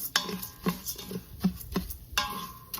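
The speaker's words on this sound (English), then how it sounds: "we're going to continue stirring this" A spoon clinks and scrapes in a pot of Mexican rice being stirred, a handful of sharp metallic taps spaced irregularly, close and clear with no talking.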